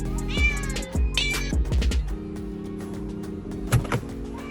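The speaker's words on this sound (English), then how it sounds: "There is no way that you can put your cat's meow as a horn." A cat's meow played as a Tesla car horn: several short, loud electronic meows in quick succession, some overlapping, ringing out with a clear tonal character and no speech.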